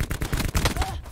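Rapid gunfire from Black Ops 4 crackles in a dense burst of close, loud shots lasting about a second.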